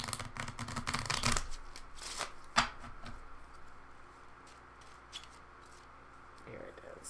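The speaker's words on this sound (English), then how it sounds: "Do a quick shuffle." Psychic reading cards shuffled quickly by hand, a brief burst of riffling and flicking near the start, then quieter handling and a few soft card taps under room tone.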